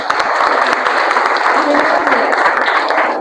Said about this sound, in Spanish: ¿Cuánto le dan un aplauso de bienvenida a Marcelo?